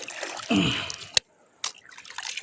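Seawater is poured over freshly gathered clams to rinse out sand, giving a close, brief trickle and splash, then a short pause before the pouring resumes.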